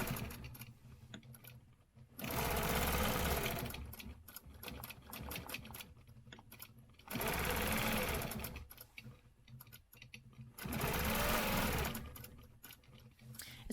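A sewing machine stitches straight lines along a ruler while working a quilting stencil design, running in three loud steady bursts separated by quieter pauses.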